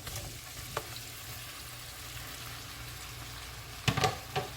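Shrimp frying in a pan, a soft, steady sizzle with a few brief scraping stirs near the start and end, fairly quiet.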